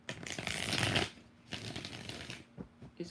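Tarot cards being shuffled, a long riffling burst followed by a second spell of softer shuffling and a few brief flicks near the end, close up with no voices.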